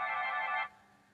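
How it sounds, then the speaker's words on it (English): A short electronic iPhone ringtone preview plays clearly for about half a second, then cuts off abruptly into quiet. "when you click on a ringtone, it will play the sound"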